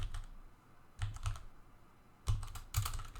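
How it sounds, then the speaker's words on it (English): Fingers type on a computer keyboard in short clustered bursts of soft clicks separated by brief pauses, close and fairly quiet with no voices. "Go to the prompt box and then type in your instructions."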